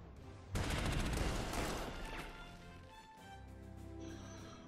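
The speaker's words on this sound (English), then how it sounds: "A lot of artillery pounding on them." Artillery bombardment in the WWII strategy game Panzer Corps 2 during an assault on Stalingrad: a sudden loud burst of rumbling explosions that rolls on and slowly fades into a lower, sustained battlefield roar.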